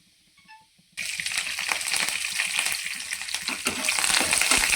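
After a moment of near silence, curry leaves hit hot tempering oil for raw coconut chutney and burst into a loud, crackling sizzle that keeps popping and spitting.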